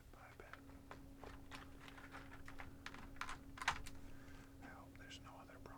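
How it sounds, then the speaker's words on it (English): Computer keyboard being reassembled, with rapid, irregular clicks and taps of keycaps being pressed into place, close and quiet, while a person whispers faintly over it. "Keyboard gets put back together."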